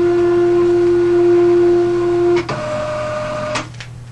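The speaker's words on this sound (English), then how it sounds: "2 sets of tags will feed through the printer, and now you're calibrated." A thermal label printer feeds two sets of tags through during sensor calibration, giving a steady mechanical hum with a sustained tone that stops abruptly, followed by a brief clunk and a shorter whir, loud and close.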